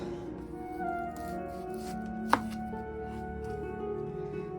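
A strong onion chopped with a knife on a board, quiet close cuts and soft shuffling with one sharp louder knock in the middle, no talking.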